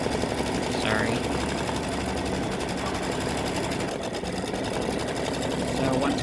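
An embroidery machine stitches the underlay of a gnome's beard in light gray thread for an Easter design, a loud, continuous rapid mechanical whir with a voice speaking faintly beneath it.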